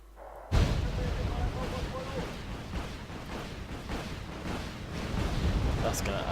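Artillery rounds fire in the real-time strategy game Wargame Red Dragon during a 4v4 multiplayer battle, a loud burst opening into a dense rumble of distant bombardment, with a voice talking over it.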